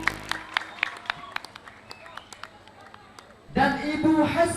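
Crisp scattered claps at a school graduation ceremony at an Islamic boarding school slow and thin out, then someone speaks over a microphone.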